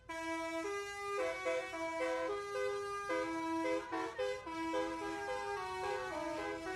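A bus telolet horn plays a bright multi-tone melody, several stacked horn notes sounding in a continuous tune, loud and close, with no talking.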